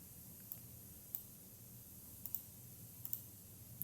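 Faint, sharp computer mouse clicks, about seven of them in small irregular clusters, over a low steady room hum.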